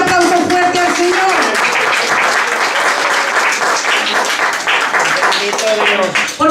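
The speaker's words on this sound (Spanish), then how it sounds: "Dale ese aplauso fuerte al Señor." A church congregation bursts into loud, sustained applause, dense clapping that continues for several seconds with a few voices calling out over it.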